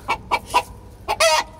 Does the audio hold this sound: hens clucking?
yes